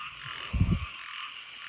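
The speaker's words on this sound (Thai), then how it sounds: "เราได้กบตัวผู้ มานะครับ" A male frog caught after rain gives a short croaking burst of a few rapid pulses, close and fairly loud over a steady background hum of night insects.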